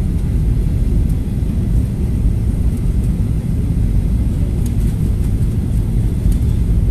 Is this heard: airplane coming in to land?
yes